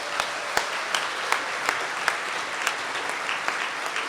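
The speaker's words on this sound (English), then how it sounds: "How about one more big round of applause?" An audience at an Indigenous engagement conference's survivors circle applauds steadily, with sharp individual claps standing out over a continuous patter of hands, heard from a moderate distance.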